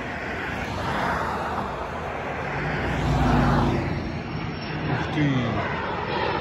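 Airplane passing overhead near an airport, a broad engine roar that swells to a peak mid-clip and fades, with road traffic and a person speaking briefly.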